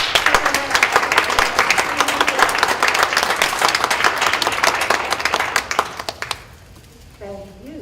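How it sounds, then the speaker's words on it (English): Audience applause at a school board meeting, a dense, loud wash of clapping lasting about six seconds before cutting off, followed by quieter room noise and a brief voice. "Can we give our friend a round of applause?"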